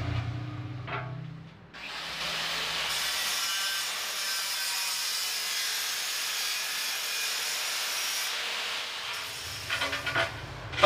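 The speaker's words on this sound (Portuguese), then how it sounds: "Somente mesmo com a serra mármore que consegue fazer isso." A marble saw cutting through bathroom tile, with a sustained high whining grind lasting several seconds before spinning down, bracketed by brief handling clatter at start and end.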